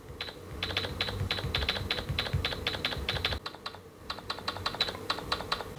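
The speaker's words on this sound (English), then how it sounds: "It sounds like a typewriter." Rapid typewriter-style keypress clicks from the Microsoft SwiftKey keyboard on Android patter in quick bursts, with a brief pause midway before the tapping resumes.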